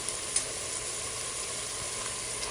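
Frozen ground meat frying in a pot for one-pot hamburger mac while being stirred and broken apart, giving a steady close sizzle throughout with faint scraping, and no talking.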